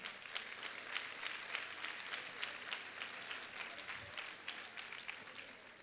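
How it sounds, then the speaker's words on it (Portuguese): An audience at a Christian women's conference in a large hall breaks into steady, dense applause that carries on evenly without pause, with a few crowd noises mixed in and no clear talk. "Pode aplaudir ele."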